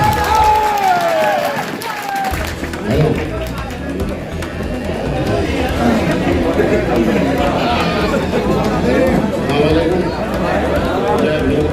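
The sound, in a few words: crowd applauding loudly to welcome the speaker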